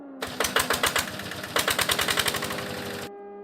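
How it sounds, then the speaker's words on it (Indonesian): A loud machine starts abruptly and hammers rapidly in a steady pounding rhythm, with a brief pause midway, then cuts off suddenly. "Beberapa mesin tiba-tiba menyala dan berbunyi keras"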